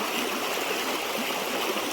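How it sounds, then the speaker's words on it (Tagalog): A river runs near a lakatan banana farm, its water rushing in a dense, steady stream that fills the whole stretch at an even, fairly loud level, with no voices. "ilog dito sa aming area"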